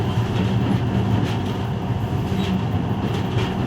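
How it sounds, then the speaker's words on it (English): A monorail train in Metro Last Light Redux runs steadily along its track, a continuous low rumble and rolling drone with faint clatter, close and even throughout with no voices. "this monorail seems magic, doesn't it?"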